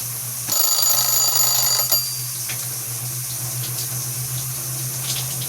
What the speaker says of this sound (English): Washing my face with a brush